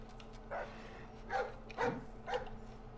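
Guard dog in the Splinter Cell stealth game giving four short, sharp barks spaced about half a second apart, moderately loud over a low steady game ambience.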